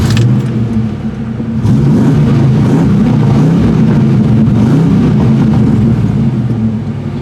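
A Ford Foxbody Mustang engine runs steadily at close range, a low rumbling drone that swells as the car pulls away and keeps driving, with a brief jingle near the start.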